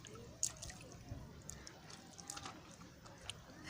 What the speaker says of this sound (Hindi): यहाँ पे पानी में चलते हुए इतनी अच्छी पानी की आवाज़ इतनी अच्छी लग रही है